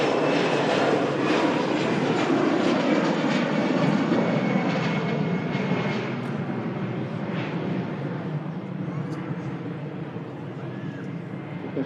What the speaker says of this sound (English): Aircraft just departed.